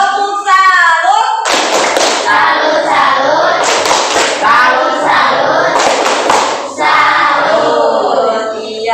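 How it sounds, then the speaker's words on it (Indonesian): A group performs the 'tepuk salut' clapping routine in a classroom, with rhythmic sets of hand claps alternating with chanted voices, loud and close throughout. "tepuk salut untuk Janeta."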